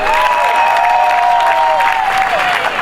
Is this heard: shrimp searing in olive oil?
no